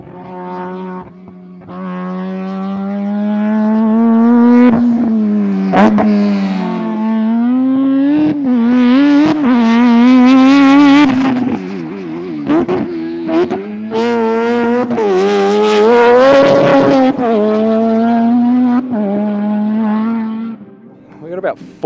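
Mad Mike's 1400hp rotary-engined race car at Pikes Peak in Colorado screams through repeated loud revving bursts, its high, buzzing rotary wail rising and falling with gear changes and sharp cracks, heard close by over a long run.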